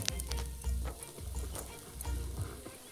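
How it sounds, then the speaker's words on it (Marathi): Tandoori chicken leg pieces grilling over charcoal at a riverside cookout, their oil sizzling steadily with crackling pops close up, quiet and without speech. "ह्याचं तेल बघा किती भारी निघतंय कोळशावर"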